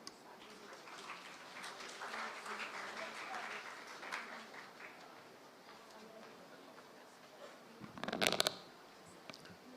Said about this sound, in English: Could we please have a loud round of applause for him?